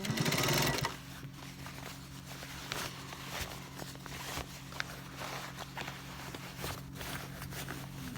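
A sewing machine runs steadily, stitching a double line along the inner leg seam of military uniform trousers, a continuous mechanical hum with faint ticks, preceded by a brief louder burst at the start.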